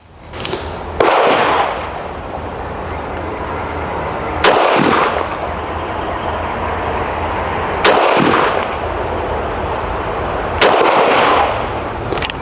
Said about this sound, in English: I'm gonna shoot the Canik to the left card and then the SIG to the right one